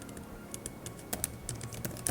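Keys clack on the keyboard of a reMarkable Paper Pro in quick, uneven taps, close and fairly quiet, with a few sharper strokes standing out near the end.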